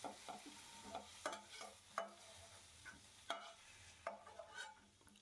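A utensil stirs and scrapes fried cauliflower in a pan, giving a series of sharp, close scraping strokes about once a second over a faint sizzle, with no voices.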